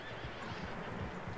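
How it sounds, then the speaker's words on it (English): Horses in the Western open world of Red Dead Redemption 2 give a whinny over a steady low rumble of hooves and ambient noise, fairly quiet and continuous throughout. "Horses, quite a few of them."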